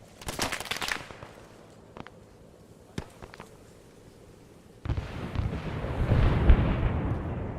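Heavy booming artillery fire in an Arma battle: sharp distant reports early on, then a deep, rumbling salvo that swells loudly and rolls on to the end.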